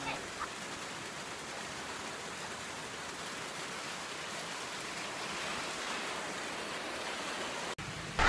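Heavy rain pours steadily and close by in a broad, unbroken wash, with no voices, then ends in a sudden cut and a bump.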